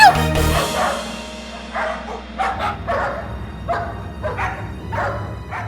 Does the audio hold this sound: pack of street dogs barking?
yes